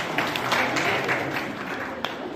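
Audience applause at an honour ceremony for principals promoted to DEO and equivalent posts, a steady wash of many hands clapping at moderate loudness throughout.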